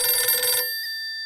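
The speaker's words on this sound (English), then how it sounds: "The phone rang twice." An old-fashioned telephone bell rings in a short burst in the noir detective video game Blacksad: Under the Skin, then cuts off, leaving a faint lingering tone in a quiet room.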